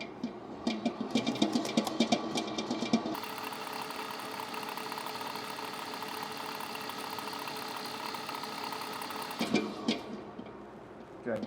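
A stand mixer kneads croissant dough at speed 3, its motor a steady, loud whir with a rhythmic rattle that holds evenly for several seconds before winding down, bracketed by clattering at start and end.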